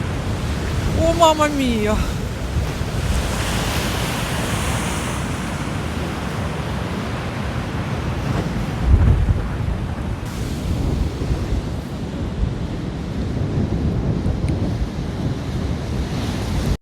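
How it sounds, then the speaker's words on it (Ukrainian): Heavy storm surf roars continuously along a sea coast, with wind buffeting the microphone; a voice exclaims briefly near the start above the crashing waves. "Зараз буде сильно хвиля."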